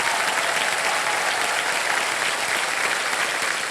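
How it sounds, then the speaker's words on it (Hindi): Studio audience applause on a Hindi quiz show set, a steady, dense wash of clapping filling the whole stretch at full loudness with no break. "तालियां बज जाए इनके लिए"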